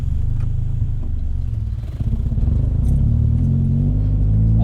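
Manual-transmission car rolling forward under light throttle, with a steady low engine drone and faint interior clatter, recorded from inside the cabin.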